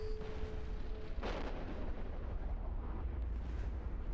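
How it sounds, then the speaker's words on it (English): Video game explosions in a space ship game: a loud booming blast erupts about a second in, then rumbling bursts and crackle fade away behind a brief tone at the start. "Begin Michael Bay like explosions."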